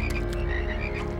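A cartoonish frog croaks over and over in a steady, throbbing rhythm, close and fairly loud, with no voices.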